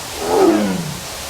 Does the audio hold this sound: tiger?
yes